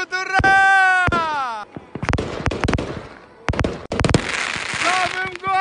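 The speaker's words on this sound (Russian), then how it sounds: "Наш салют, ура!" New Year fireworks salute with loud sharp bangs and crackling bursts in quick irregular clusters, mixed with sustained tonal whistling at the start, close and dominant.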